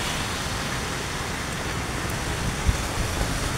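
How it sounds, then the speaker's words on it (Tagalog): Heavy rain pouring down outdoors, a loud, dense, unbroken hiss of falling water with no voices. "Grabe nga ulan sayo kaayo."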